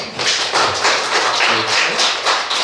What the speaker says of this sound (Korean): 잠깐 박수 한번 쳐